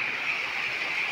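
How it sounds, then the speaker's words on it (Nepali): River water flows near a cave, producing a faint, even, continuous rush with no other sounds on top. "कल कल कल कल पानीको आवाज है"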